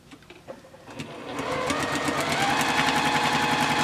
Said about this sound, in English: we're going to go to the sewing machine and just sew them and iron them